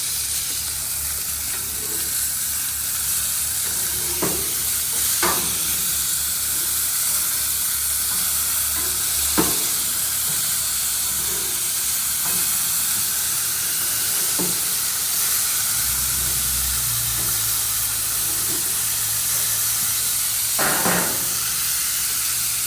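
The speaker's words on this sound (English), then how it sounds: "flipping burgers on the grill" Burgers sizzle on an outdoor grill in a steady hiss, broken by a few sharp pops and crackles, with a low rumble underneath.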